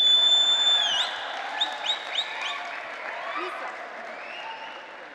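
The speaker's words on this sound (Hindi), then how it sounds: "ये पीछे वाले ज़्यादा ताली मारते हैं" An audience at a real estate event claps steadily in a full, sustained round of applause that slowly fades, with a voice speaking over it.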